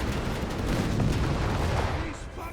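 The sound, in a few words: Archer tank destroyer big guns firing in Company of Heroes 3 video game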